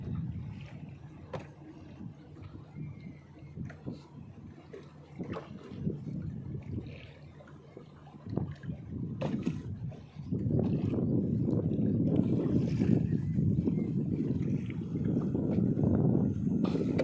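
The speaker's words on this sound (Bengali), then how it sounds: "দেখো, আমাদের পাশ থেকে বোট যাচ্ছে, এই দেখো।" A boat passes a small dugout canoe on the sea off the Andaman Islands, first a faint, far motor hum that swells to a steady, louder drone mixed with wind and water noise.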